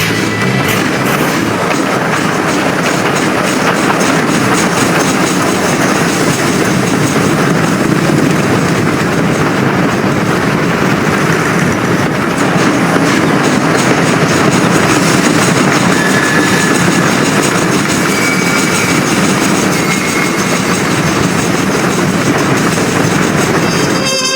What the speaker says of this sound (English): Then get on that train as fast as you can